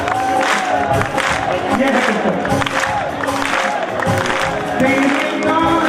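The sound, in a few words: audience applause at a bhajan performance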